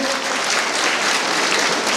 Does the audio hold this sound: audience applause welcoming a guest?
yes